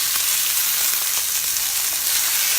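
Chicken sears in a hot pan with a steady, close hiss and crackle of frying that carries on evenly from start to finish.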